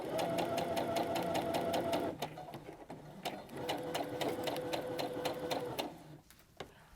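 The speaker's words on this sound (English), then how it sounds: "we've got our top stitch together" A sewing machine top-stitches a grocery tote bag strap with two long runs of rapid, even needle rhythm. A brief pause falls between the runs, and the machine stays close and alone without any talk.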